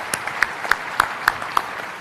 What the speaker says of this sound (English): I'd really like to give a round of applause to our panelists for a great set of presentations today